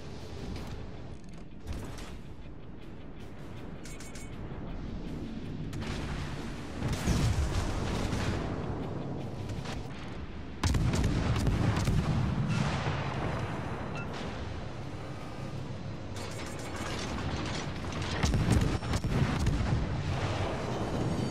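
Warship guns firing in the naval battle video game World of Warships: Legends, heavy booming salvos and rumbling explosions layered over a continuous mechanical engine drone, loud and dense, with several sharper blasts, no talk.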